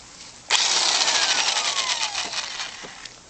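An electric impact wrench from Northern Tool zips on abruptly and runs in a loud, steady whir while it removes the front shock bolts of a 1983 Mercedes 300SD. The whir tapers slightly toward the end.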